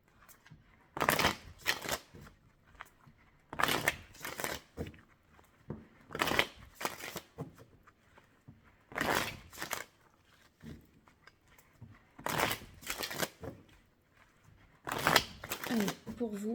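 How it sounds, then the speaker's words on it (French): Indigo oracle cards are shuffled for a pyramid draw in about six soft, close bursts of riffling and rustling, separated by short pauses. "je prends l'oracle Indigo et je vais faire un tirage en pyramide pour la partie prédictive"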